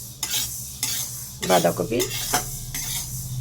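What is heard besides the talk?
frying mung dal in a pan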